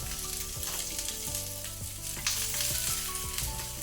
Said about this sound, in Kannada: ಸ್ವಲ್ಪ ಇದನ್ನು ಹೈ ಫ್ಲೇಮಲ್ಲಿ ಫ್ರೈ ಮಾಡ್ಕೊಳ್ಳುವ. ಫ್ಲೇಮನ್ನು ಹೈಯಲ್ಲಿ ಇಟ್ಕೊಳ್ಳಿ.